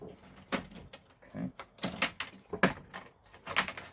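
Metal latches click and the plastic case of a Craftsman Overdrive 121-piece tool set rattles open in a series of close, sharp clacks and handling noises.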